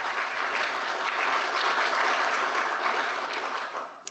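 Warm audience applause for speakers at a dust and respiratory health forum, a short, even burst of clapping that holds steady, then tapers off at the end.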